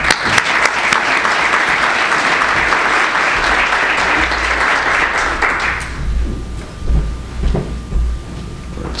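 Conference audience applauding to welcome keynote speaker Dr. Arun Majumdar, a loud, dense round of clapping lasting about six seconds before it stops and the room goes quiet with faint shuffling.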